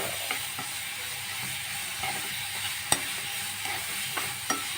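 A beet, carrot and coconut mixture with sugar is sautéed in a pan, giving a low steady sizzle broken by occasional sharp spatula scrapes and taps against the pan.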